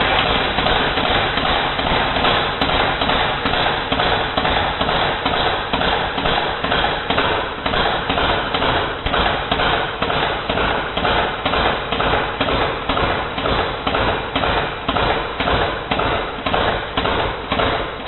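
A Marksman IX AR9 gas blowback airsoft rifle fires on full auto, loud and close, a rapid, evenly spaced stream of sharp cracks with bolt clatter running unbroken for the whole stretch.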